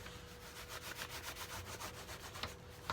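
Leather double-bit axe sheath being buffed to work Sno-Seal wax into the grain, a steady close rubbing and scuffing with soft rhythmic strokes, no talk.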